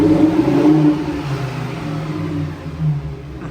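A Lamborghini Huracán STO passing on a street during the Monaco Grand Prix, its engine note rising and falling in a loud, steady drone with a brief swell near the end, no talking.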